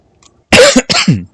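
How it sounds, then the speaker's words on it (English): A person coughs close to the microphone in two or three quick, harsh bursts after a moment of near silence. "Sorry about the coughing."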